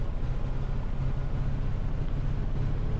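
Steady low drone of a Piper Comanche 250 piston engine running up at high RPM in a flight simulator, leaned to clear a fouled plug on the ground before taxi, continuous and even with no talk.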